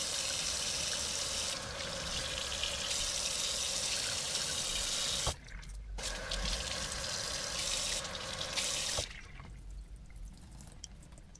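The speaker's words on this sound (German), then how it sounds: "Und mit kaltem Wasser nachspülen." Cold tap water running over sprouts in a sprouting jar, a steady splashing stream with dripping and gurgling, broken by short pauses, close and fairly quiet with no talking.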